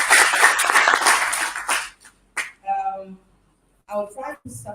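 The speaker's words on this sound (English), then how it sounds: "Can we give the whole team a round of applause?" Audience applause and clapping for a presentation team at a civic engagement conference, loud and dense for about two seconds before fading into a few scattered claps and speech.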